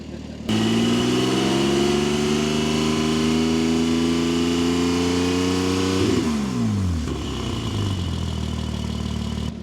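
Porsche 718 Spyder with a Milltek exhaust revving, a loud sustained engine note climbing and holding, then falling back toward idle, heard close and alone.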